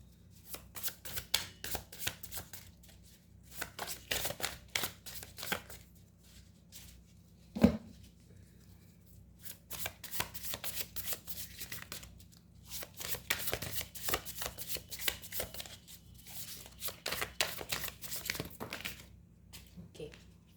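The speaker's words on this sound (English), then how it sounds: "let me pull out some tarot cards for you." Tarot cards being shuffled by hand, with repeated papery riffling bursts in quick flurries, close and fairly quiet, broken by pauses and a single sharp knock midway.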